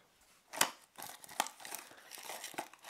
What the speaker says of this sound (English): let's cut the tape apart